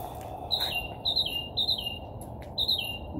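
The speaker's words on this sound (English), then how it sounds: "That bird is loud." A bird calls loudly from a tree in short, bright, repeated chirping phrases, four or five bursts with brief gaps between them, against quiet background noise.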